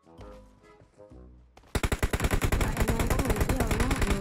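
Gunfire in PUBG Mobile: a few scattered musical tones give way to loud, rapid automatic bursts, a dense rhythmic stream of shots close up that runs to the end.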